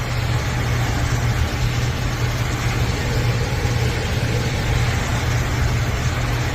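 HVAC unit blower running with a steady, loud, continuous low whoosh and hum that never changes pitch or strength, close by, with no talk.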